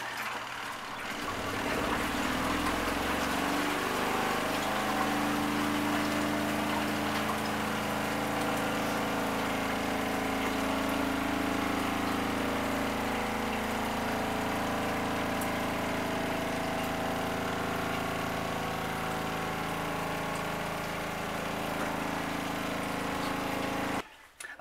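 Portable washing machine in an off-grid laundry setup running its spin cycle, a steady low motorized drone and whir that holds evenly for over twenty seconds before cutting off abruptly at the end.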